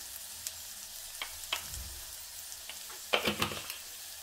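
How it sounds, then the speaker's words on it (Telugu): Food frying in oil in a pan: a soft steady sizzle with a few sharp utensil clinks and a brief burst of scraping near the end, close by and fairly quiet. "ఇది మంచిగా నూనెలో వేగుతుంది"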